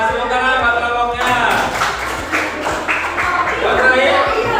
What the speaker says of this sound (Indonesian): Tepuk tangan buat kelompoknya